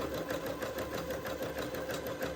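Sewing machine running steadily while zigzag stitching a Christmas dress, a continuous close mechanical whir with fast rhythmic needle pulses and no pauses.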